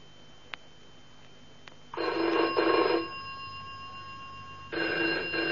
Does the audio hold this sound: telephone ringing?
yes